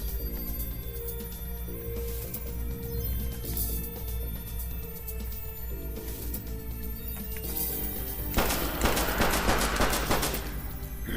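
Sustained automatic gunfire in the zombie shooter video game Everdark: Undead Apocalypse rattles continuously over game music, with a louder, denser burst toward the end.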